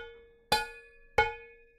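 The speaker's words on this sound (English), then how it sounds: "go get yourself a big pot, because that works very well as a drum" A big cooking pot used as a hand drum: two sharp, metallic, cowbell-like strikes about two-thirds of a second apart, each ringing briefly with a steady tone, fairly quiet and alone.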